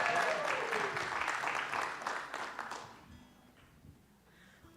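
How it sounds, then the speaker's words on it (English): Audience applause after a guitar song, heard as a moderate round of clapping that fades out after about three seconds into a quiet room with faint movement. "Big round of applause."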